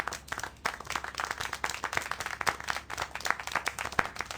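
Scattered hand clapping from a character in the video game Syberia: The World Before, a fairly steady run of claps over a low background hum, with no talk.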